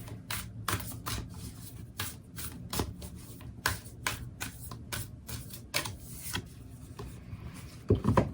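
Oracle cards being shuffled by hand, a rapid run of crisp, papery riffles and slaps repeating close up with no voice, growing busier and louder toward the end.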